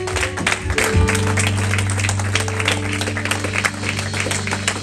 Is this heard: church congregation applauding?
yes